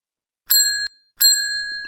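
Two bright, ringing electronic phone chimes sound close up in quick succession, each sustained briefly, against otherwise silent background.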